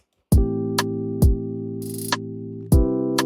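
Synth chords play back from FL Studio, with several sustained, rich chords that start sharply one after another and ring out cleanly with no voices over them.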